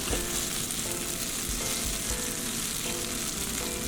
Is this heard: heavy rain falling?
no